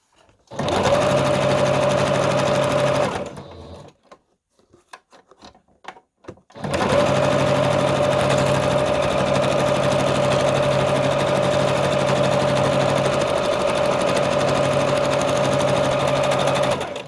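A sewing machine runs a straight stitch in a steady, loud mechanical whir for a few seconds, stops briefly amid small clicks and handling, then resumes for a long unbroken run, heard close with no talking.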